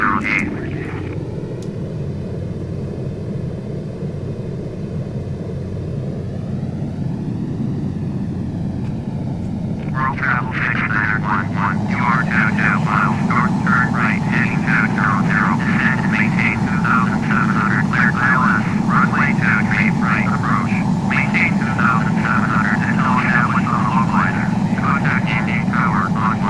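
An aircraft in Flight Simulator X lands with a loud, steady engine drone that rises in pitch, then shifts to a rougher, pulsing roar, and a voice is heard partway through.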